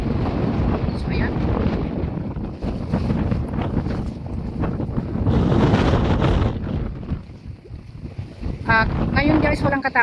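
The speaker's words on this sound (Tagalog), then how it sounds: "Pero parang napakalakas ng hangin." Strong wind buffets the microphone on Lamma Island by the sea, a loud continuous roar with gusting surges, while people talk briefly over it.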